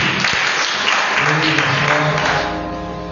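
A church congregation applauds the Holy Spirit with loud, steady clapping mixed with voices, trailing off toward the end as a sustained tone lingers.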